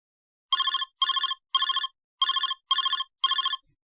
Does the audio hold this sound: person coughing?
no